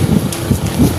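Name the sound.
strong wind while jogging outdoors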